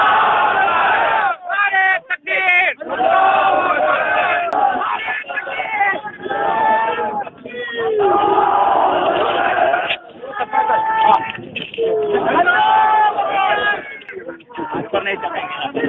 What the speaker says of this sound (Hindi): शुरू हो गई धार्मिक नारेबाजी